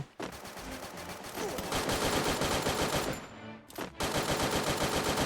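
Rapid automatic gunfire from the battle royale game Free Fire rattles loudly and almost continuously, with a brief pause near the end before the shooting resumes.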